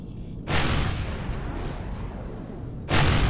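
Loud bursts of weapon fire in the video game Empyrion Galactic Survival, one sustained roaring volley of about two and a half seconds followed by a second burst starting, close and with no talk.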